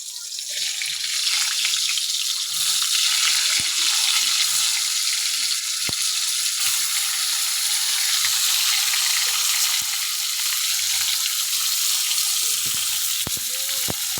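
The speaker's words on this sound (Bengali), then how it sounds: "তখন আমি একটা একটা করে পটল ভাজাগুলো ছেড়ে দেবো।" Pointed gourd slices fry one by one in hot oil in a wok, giving a steady, close, bright sizzle with a few sharp crackles and pops, and no talking.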